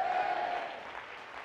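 A burst of applause from a crowd, dense clapping that gradually thins and fades over a second and a half.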